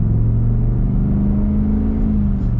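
A 2024 Ford Super Duty truck's Godzilla gas V8 idles with a deep, loud, steady rumble, close by and throbbing evenly throughout, with no voices.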